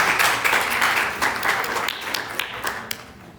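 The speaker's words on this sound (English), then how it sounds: "You can clap if you want." Scattered clapping from a chemistry lecture audience, a brief uneven round of hand claps in a classroom that thins out toward the end.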